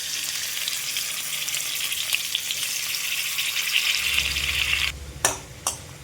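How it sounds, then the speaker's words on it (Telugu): Chopped tomatoes fry in oil in a pan for a sesame chutney, giving a steady close sizzle with a few stirring clatters near the end. "అదే ప్యాన్లో మరి కొంచెం ఆయిల్ వేసుకుని 2 టమాటాలు కట్ చేసుకుని వేసుకోవాలండి"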